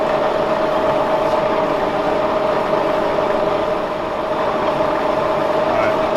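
A Kearns horizontal boring mill spindle turns at about 200 RPM, giving a steady, loud mechanical drone with a constant whine over broadband shop noise, unchanging throughout.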